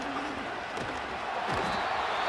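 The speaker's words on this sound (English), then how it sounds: "This crowd turning up the decibel level" Stadium crowd noise during a Madden NFL 25 game between the Dolphins and Titans, a dense, continuous roar of many voices at moderate level with a few brief whooping swells.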